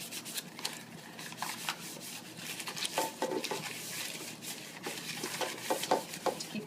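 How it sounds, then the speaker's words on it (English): Buttery paper wrappers are rubbed around the insides of metal bread pans to grease them for banana nut bread, giving a steady close-up scuffing and smearing with light scrapes against the pan walls, no voices. "the butter that's on the outside of those, we're going to rub that inside our pans."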